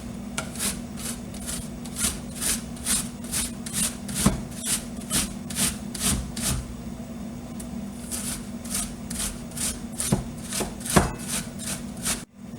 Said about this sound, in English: So now we're going to go ahead and begin to grate the apple.